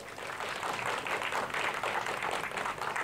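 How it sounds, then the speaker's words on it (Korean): Audience applause at a Korean history talk concert, a dense steady patter of many hands clapping throughout at moderate level, no voices over it. "큰 박수 부탁드립니다."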